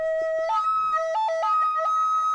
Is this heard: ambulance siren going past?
yes